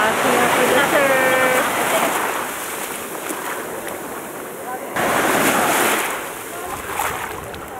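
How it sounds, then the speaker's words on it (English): Pounding surf washes up on the Botolan coast, a loud, wind-buffeted roar that swells and recedes in waves, with a voice briefly audible early on. "It's a pounding surf."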